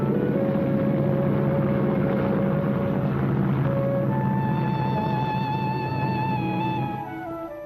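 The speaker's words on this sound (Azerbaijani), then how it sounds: "Dehlidən gələn təyyarə yerə enir" An airplane landing: a loud, steady jet engine roar with a droning hum, rising whine tones joining midway, then easing slightly near the end.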